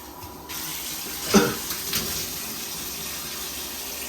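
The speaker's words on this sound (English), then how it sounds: "And get some of the rinsing action." Running water rinses a bathtub and shower wall, a steady splashing flow with a louder gush as the stream strikes the surface.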